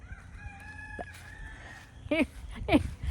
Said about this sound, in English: you can hear my little silkies crowing out here